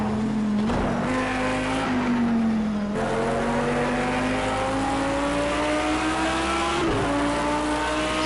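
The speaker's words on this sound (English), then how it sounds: "That's a screaming V10." A V10 race car engine screams at high revs, a loud sustained tone rising and dipping through gear changes with a few sharp shifts, close and continuous without any talking.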